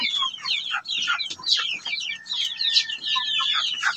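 Several chickens cluck and squawk in a busy, overlapping flurry, close by and fairly loud, with the calls continuing throughout.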